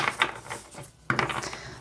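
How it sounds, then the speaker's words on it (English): A deck of tarot cards being shuffled by hand, giving bursts of rapid papery riffling and slapping, pausing briefly midway before a sharp restart, close and moderately loud. "we're going to go ahead and shuffle the deck"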